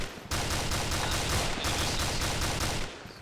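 Rapid automatic gunfire from the military video game Arma 2 rattles in a sustained, loud burst of closely spaced shots lasting several seconds before cutting off.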